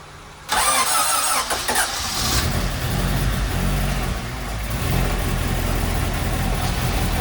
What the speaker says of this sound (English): we'll get her started up for you in just a moment